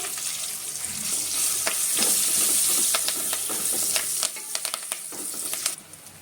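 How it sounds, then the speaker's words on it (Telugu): Whole spices and asafoetida frying in hot oil for a tempering in a tomato drumstick rasam, a loud, steady sizzle with scattered crackles and pops near the end. "ఇప్పుడు వీటిని వేయించుకుందాం"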